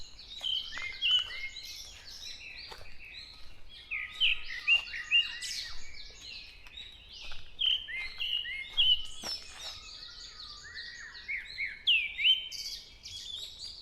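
Several birds sing in the morning, bright chirps and trilled phrases overlapping in quick bursts, fairly near and clear against an otherwise quiet backdrop.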